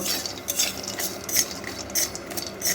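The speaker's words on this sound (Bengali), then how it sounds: "বাদামগুলোকেও শুকনো খোলায় খুব ভালো করে একটু ভেজে নেব" A metal spatula scrapes and clinks repeatedly against a dry wok as raw peanuts are tossed and roasted over medium-low heat, with a soft rattling hiss beneath.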